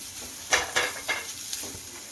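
Potato pieces tumbling into sautéed onion masala in a pan, a few short clattering stirs and scrapes at a steady rhythm over a faint sizzle, close and clear, with no voices.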